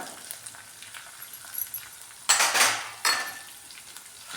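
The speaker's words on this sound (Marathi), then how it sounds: "मस्त गुलाबी रंगावरती कांदा भाजून घेऊ" Finely chopped onions fry to a pink tinge in a pan for potato curry, a soft sizzle beneath sharp metallic scrapes and clinks of a spoon stirring against the pan, with two louder bursts of stirring near the end.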